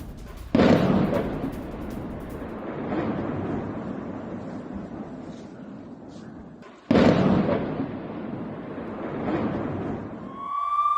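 Explosions from a mortar and anti-tank guided missile attack on the Shtula area of Israel: two sharp, heavy blasts several seconds apart, each trailing off into a long rolling rumble, with a thin rising tone creeping in at the end.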